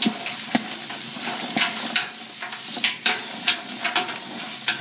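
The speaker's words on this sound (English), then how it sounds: "I sort of want to give them a good stir around with that olive oil." Peppers sauté in olive oil in a pot, a steady close sizzle broken by repeated scraping stirs at an irregular rhythm, with no talking over it.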